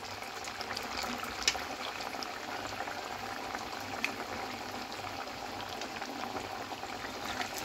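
Potato and sago snacks deep-fry in oil with a steady, fairly quiet bubbling and fizzing that runs throughout, broken by a few faint pops.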